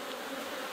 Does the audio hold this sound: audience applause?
no